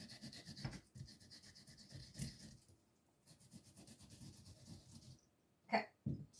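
Fresh ginger is rubbed across a ginger grater in quiet, raspy scraping strokes, close by. There is a short pause partway through and a couple of louder knocks at the end.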